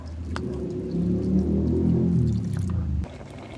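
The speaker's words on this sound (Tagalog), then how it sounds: "Lagyan po natin ng gata." Coconut milk poured into a simmering Filipino ginataang vegetable stew, a steady close liquid splash and bubbling for about three seconds, then stopping with a soft clink.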